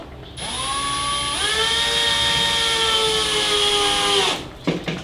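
A Milwaukee 12 volt cordless drill with an 18-setting clutch runs steadily for about four seconds with a high whine that steps up in speed partway through, then stops with a few clicks.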